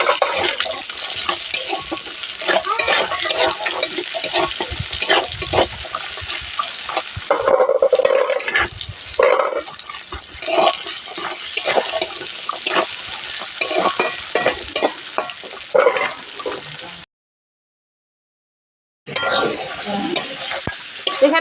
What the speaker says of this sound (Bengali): ভালো ভালোভাবে ভেজে নেবো